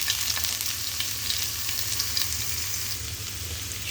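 Spices frying in mustard oil, giving a steady, close crackling sizzle with fine pops that continues without a break.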